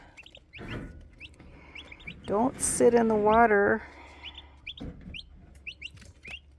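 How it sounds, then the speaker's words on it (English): High, thin chirps from two-day-old blue slate and white Holland turkey poults repeat throughout, under a brief spoken remark and some louder clucking in the middle. "these little blue slate and white Holland turkeys"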